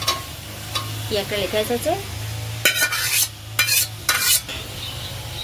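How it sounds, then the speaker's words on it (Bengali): Fried potatoes are stirred into sizzling spiced masala in a pan, with a steady frying hiss, scraping stirs and a few sharp utensil clanks against the pot, and a brief voice in the background. "মশলা কষানো হয়ে গেছে, এবারে ভেজে রাখা আলুটা দিয়ে দেবো।"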